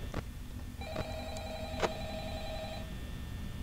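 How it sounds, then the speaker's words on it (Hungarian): Telephone ringing in the horror video game Five Nights at Freddy's, a short series of bright electronic rings with a sustained tone, moderately loud over a dull low background hum, no speech. "Vedd fel a telefont."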